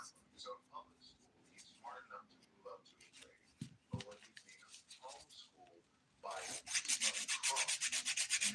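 A nail file scrapes over dip powder nails, first as soft intermittent rubbing strokes, then as a louder, fast, steady run of rasping strokes, with a quiet voice speaking in between.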